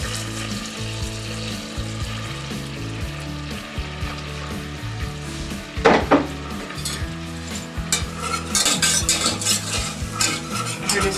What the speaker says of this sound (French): Donc on va laisser le beurre encore un petit peu fondre. Donc j'ajoute ma farine.